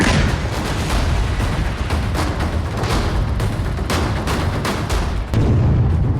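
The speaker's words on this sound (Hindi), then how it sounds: "एक ही धमाके में पूरा घर तबाह हो गया" Loud blasts and crackling bursts of gunfire-like booms pound continuously, dense and chaotic, with no clear pause, from an IED explosion destroying a house in Kashmir.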